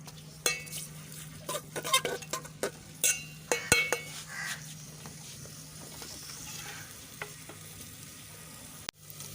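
Onions frying until brown in a pan for a peas and chicken curry, giving a steady close sizzle broken by repeated sharp clinks and scrapes of a spoon stirring against the pot.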